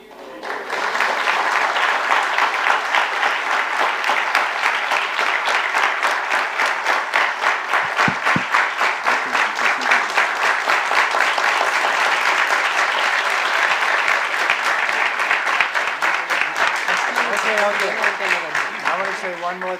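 Audience applause fills the hall after a spiritual class led by a swami, a steady, dense clapping that runs loud and continuous for the whole stretch, with a few voices faintly underneath near the end.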